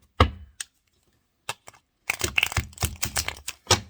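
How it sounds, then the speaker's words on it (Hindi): Tarot cards are shuffled at close range. A few isolated taps and flicks come first, then a quick run of crisp riffling clicks. "मैं इसको पहले हटा दूँ, शफल कर लूँ मैं।"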